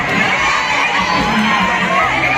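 A loud, dense crowd of children shouting and cheering together at a big outdoor election rally in front of a town hall in Thailand, a continuous roar of excited young voices with no pause.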